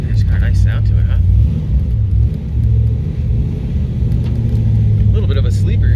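A 1987 Pontiac Trans Am with a built 400 V8 making 500 hp and a five-speed rumbles steadily up close, deep and loud throughout, with people talking over it.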